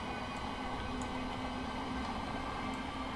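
Class 707 electric multiple unit running on the South Western main line in Train Simulator Classic, a steady low rumble and whine with a constant drone and faint periodic clicks, continuous and even throughout.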